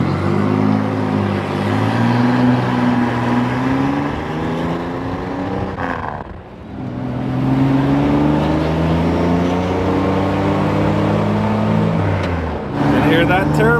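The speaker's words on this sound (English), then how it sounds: "Can hear that turbo." A turbocharged car engine pulls hard while driving, its droning note and turbo audible, climbing in pitch, easing off briefly midway, then building again.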